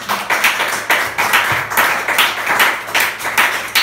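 Church congregation clapping in bursts of rhythmic, fairly loud applause that swells and dips several times without any speech.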